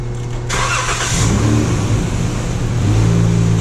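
A 2012 Chrysler minivan engine cranks and catches, then settles into a close, loud idle with a rising rev, while the fuel pump hums underneath once it starts.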